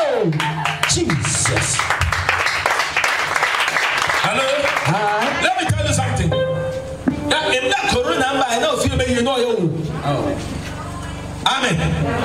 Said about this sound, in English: as you are clapping, as you are clapping, you are clapping it.